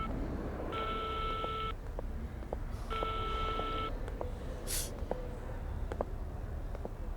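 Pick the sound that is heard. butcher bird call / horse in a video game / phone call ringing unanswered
phone call ringing unanswered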